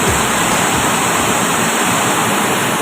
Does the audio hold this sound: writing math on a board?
no